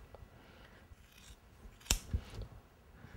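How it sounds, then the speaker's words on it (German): Large fabric shears cut through felt in a crafting setting, giving a sharp close snip followed by a second quieter crunching cut, with soft rustling of the material around it and no talk. "für Filz empfiehlt sich eine relativ große Stoffschere"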